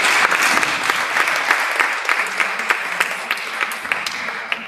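Sustained audience applause at a cultural conference on digital revitalisation of African culture, dense clapping from many hands filling the room with a few sharper claps standing out, no talk over it.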